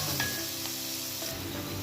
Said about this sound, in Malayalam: നന്നായിട്ടൊന്ന് വഴറ്റി കൊടുക്കുക.